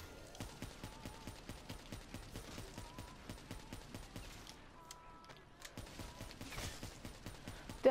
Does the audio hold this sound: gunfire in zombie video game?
yes